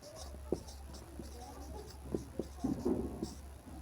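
Pen writing on paper during a Class 10 maths lesson, quiet close scratching strokes in short irregular bursts over a low steady hum.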